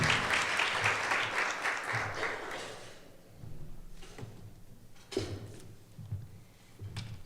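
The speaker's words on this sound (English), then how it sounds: "Please give her applause." An audience applauds to welcome a DC Bureau sports reporter onto an ESPN panel, about three seconds of clapping that fades into scattered knocks and shuffling.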